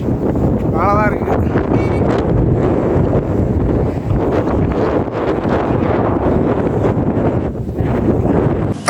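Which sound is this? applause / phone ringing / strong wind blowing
strong wind blowing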